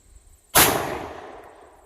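A single sharp 9mm pistol shot with a 90 grain bullet fired into ballistic gel, a loud sudden crack after a quiet moment, its echo trailing off over about a second.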